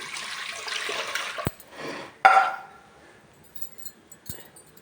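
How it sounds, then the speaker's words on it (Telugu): Water is poured from glasses into a pot holding a spoonful of ghee for a sago dish, a brief hissing splash at first, followed by a few sharp knocks and quieter scattered clatter. "ఒక ఆరు గ్లాసులు వాటర్ పోసేసుకున్నాం"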